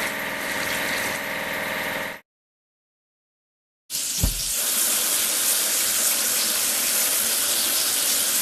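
Water spraying hard onto crane parts, pipe layer components, as they are washed clean: a loud, steady rush that cuts out for about two seconds, then resumes with a brief clatter.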